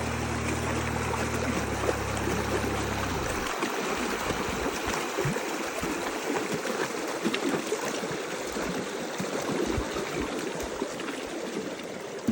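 Gambia river rushing beneath a bridge during the rainy season in Senegal, a steady broadband wash of flowing water heard near and loud throughout, with a low engine-like hum in the opening seconds.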